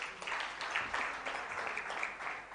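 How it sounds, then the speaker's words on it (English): Audience applause at a World Tourism Day event, a continuous even patter of clapping from a seated crowd, moderately quiet and steady throughout. "let's give her a huge round of applause"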